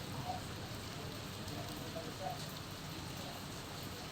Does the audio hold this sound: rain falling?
yes